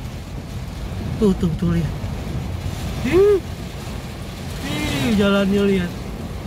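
A strong swirling wind and rain storm on a road in Tasikmalaya, trees whipping around, gives a steady roar of gusts and rushing noise across the whole stretch. People talk over it with excited, raised voices.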